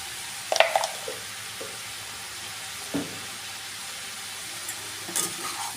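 Turmeric, salt and spices fry in a pan for a cucumber and prawn curry with a soft, continuous sizzle. A few sharp utensil clinks break in near the start and again near the end.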